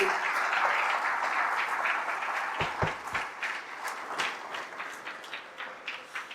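Steady applause from an audience at a borough address in Staten Island, honoring high school girls' flag football teams, a dense wash of clapping that thins toward the end with scattered individual claps.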